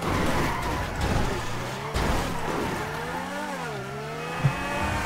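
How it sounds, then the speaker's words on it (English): In GTA 5, a car's tires screech and wail in long, sliding squeals over a loud, revving engine, with pitch bending up and down as it skids through city streets. "Like all I can hear is my tire screeches."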